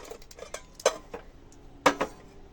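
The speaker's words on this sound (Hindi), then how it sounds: "अब धोती हूँ मैं पहले फटाफट बर्तन" Dishes and utensils being washed by hand in a home kitchen, with a few sharp clinks and clatters of metal pots and cutlery against each other, the two loudest knocks standing out from softer rattling.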